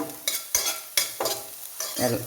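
Okra frying in oil in a pan is stirred in several distinct scraping strokes, each followed by a brief sizzle, close up and fairly loud with no voices.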